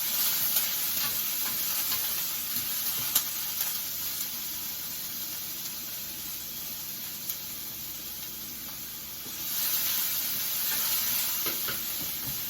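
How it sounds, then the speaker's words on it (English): Tomato and green seasoning sizzling in a hot pan for bow tie pasta, a continuous close frying hiss that swells louder near the end as the food is stirred, with no talking. "Then I'm going to put my tomato and my green seasoning."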